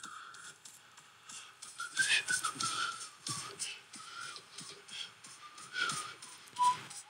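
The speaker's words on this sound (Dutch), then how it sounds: "Heel zachtjes gefloten." Soft whistling of a wandering tune, thin and close, with quiet shuffling and faint rustle in the background.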